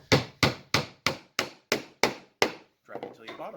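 Hammer blows driving a wooden dowel perch into a wooden birdhouse: eight sharp, evenly spaced strikes, close and loud, followed by someone speaking briefly.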